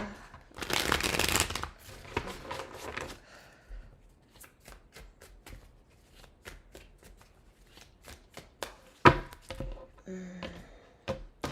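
Tarot cards being shuffled: a dense riffle burst at the start, then a long run of quick, crisp card flicks and taps heard close up, with no talk.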